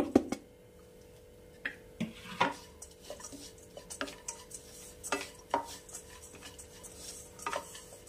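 Crushed walnuts, almonds and cashews dry-roasted in a pan for energy laddu: scattered light clicks and scrapes of a spatula against the pan, irregular and fairly quiet, with no talking.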